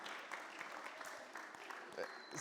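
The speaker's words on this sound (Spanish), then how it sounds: "Hasta aplausos, ¿verdad?" Church congregation applauding throughout, a dense steady patter of many hands at moderate distance with faint voices mixed in.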